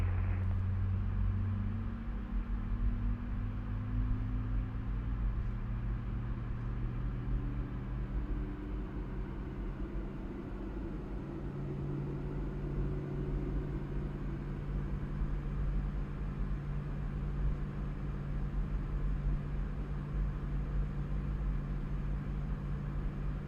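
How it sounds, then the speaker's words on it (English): Jet engine on a PMDG 737-800 in Microsoft Flight Simulator 2024, using the Boris Audio Works sound pack, spooling up during start: a steady low rumble with rising and shifting tonal whines that hold continuously, with no talking. "Right, so that's engine number 2 started nicely."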